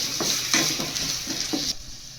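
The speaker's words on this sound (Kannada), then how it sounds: "ಎಲ್ಲನೂ ಚೆನ್ನಾಗಿ ಒಂದು ಐದು ನಿಮಿಷ ಎಣ್ಣೆಲೆ ಫ್ರೈ ಮಾಡಬೇಕು" Carrots and other vegetables fry in hot oil with a steady broadband sizzle, punctuated by rhythmic scraping stirs, until the hiss cuts off sharply near the end.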